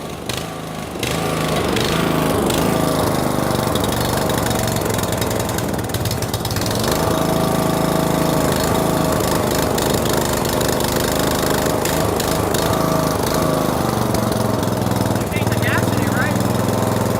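A Swisher pull-behind mower engine with carburetor trouble catches after about a second and then runs loud and steady close by, a rough, continuous droning rumble.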